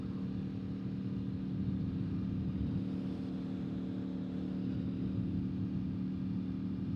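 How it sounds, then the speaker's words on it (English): A steady, low-pitched engine drone from a V4 motorcycle cruising through a neighborhood, constant and even in level with no voices. "I think you guys just really prefer to hear the bike anyway"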